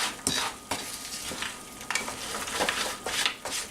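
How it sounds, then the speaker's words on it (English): Nuts stirred into a hot candy mixture in a pan, close scraping and rubbing strokes repeating every half second or so, with a soft sizzling hiss beneath. "we're going to stir in our nuts"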